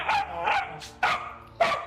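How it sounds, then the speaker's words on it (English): Dogs playing indoors let out four quick barks and yips in an uneven rhythm, fairly close but moderately quiet, with no talk over them. "I don't know if you can hear the dogs going crazy back there."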